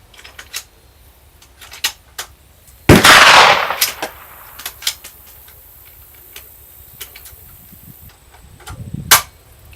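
An FM-9 firearm fires at a silhouette target 50 yards away. One loud, sharp shot rings out with a short decay, and small clicks and taps of handling sound around it.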